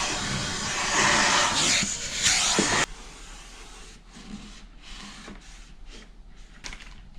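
A vacuum cleaner hoovers out a Pro Reverb guitar amplifier with a loud, breathy roar for about three seconds, then cuts off abruptly, leaving quiet handling clicks and taps.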